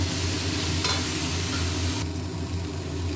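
Soybean chunks and potato stir-fried in spiced oil in a pan, with a loud, continuous close sizzle and a low steady hum beneath, plus faint stirring scrapes.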